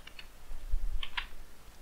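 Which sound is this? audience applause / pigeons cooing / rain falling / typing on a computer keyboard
typing on a computer keyboard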